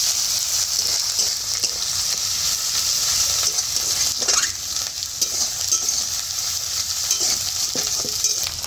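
Ginger and garlic paste fry in a pan with a steady bright sizzle, and a utensil stirs with occasional soft scrapes, close and continuous throughout.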